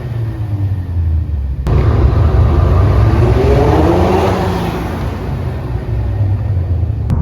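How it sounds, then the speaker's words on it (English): Ford Escort RS Cosworth engine revving hard on throttle, a loud, sustained rasping roar that swells and holds for several seconds before easing slightly, close by with no talking. "I give her a throttle now."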